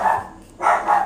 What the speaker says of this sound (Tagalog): Masabay pa yung aso guys.